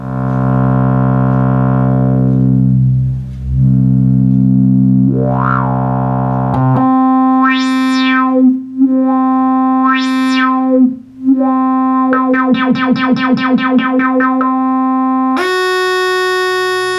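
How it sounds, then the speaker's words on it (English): A Yamaha CS-15 synthesizer plays sustained buzzy tones, one lower-frequency oscillator deeper with more low end, with sweeping pitch rises, a warbling passage, then a steady higher note. "Because this oscillator is a lower frequency, you're going to have a little more low end from this one."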